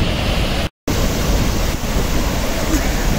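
Ocean waves wash in as a steady, loud broadband roar of surf. It carries on without a break apart from one brief dropout near the start.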